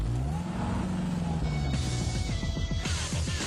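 A car pulls away for a short drive, its engine note rising steadily and close by, with a brief gear-change-like shift partway through and a rough, continuous rumble throughout.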